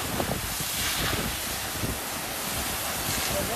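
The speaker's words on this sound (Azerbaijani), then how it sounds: "Şəlalə." A waterfall at Ilisu in Qakh gives a steady broadband rush of falling water, loud and constant throughout with some wind buffeting the microphone, and no talk over it.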